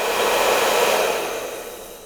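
Heat gun warming scented gun wax, a short close steady hiss of blowing hot air that gradually fades over two seconds.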